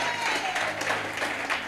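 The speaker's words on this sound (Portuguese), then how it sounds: "Alguém pode aplaudir a Jesus aqui?" Church congregation applauding at a morning service in a brief, steady burst of clapping, with a faint voice heard underneath.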